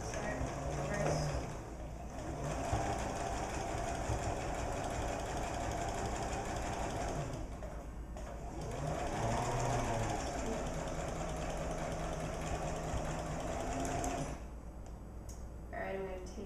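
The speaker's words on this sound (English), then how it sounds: "I'm just going to do a straight stitch line to this point." Sewing machine running a straight stitch line in a steady continuous whir, loud and close, with brief pauses, while a person talks over it.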